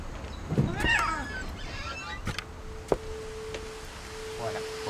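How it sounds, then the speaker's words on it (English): A cat meows softly in the video game What Remains of Edith Finch, a couple of faint plaintive calls early on amid quiet ambient game sound, followed by a sharp click and a steady tone. "I heard the cat."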